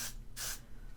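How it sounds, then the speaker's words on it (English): Two quick, light bursts of aerosol hairspray sprayed from a distance give soft, airy hisses against a quiet room. "Hold the hairspray far away."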